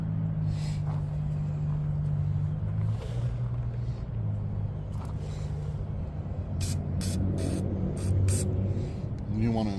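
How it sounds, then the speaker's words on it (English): Brake cleaner is sprayed onto the oil drain plug of a 2005 LLY Duramax during an oil change, several short, sharp hissing bursts late on over a steady low engine-like rumble. "I'm gonna go ahead and spray it with some brake cleaner real quick"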